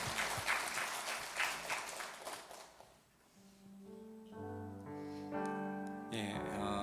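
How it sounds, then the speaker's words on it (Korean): A church congregation at a Sunday Pentecost service claps steadily for about three seconds, a dense, fairly distant patter. It fades as sustained instrumental music with held chords rises and carries on alone. "단비를 내려주신 하나님께 감사 영광의 박수 올려드리겠습니다."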